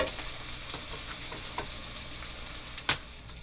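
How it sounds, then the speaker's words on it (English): Eggs fry in a pan with a soft, steady sizzle and faint crackles, quiet and close, with one brief sharper tap near the end and no talk. "I'm just going to let these eggs cook"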